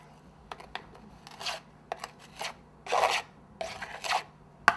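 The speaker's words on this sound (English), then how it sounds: "And we're going to scrape across the top." A tool scraping across the top of packed-down sugar molded for decorated Easter sugar eggs, giving a series of short, close rasping strokes, some sharp and brief, others longer and broader, heard alone without talk.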